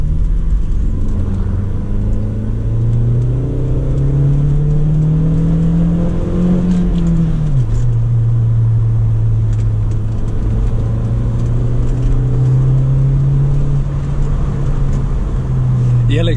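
Onboard a 1995 Audi with a manual gearbox, a steady engine drone rises and falls as the car is driven, with one clear drop in pitch around a gear change and constant road rumble underneath.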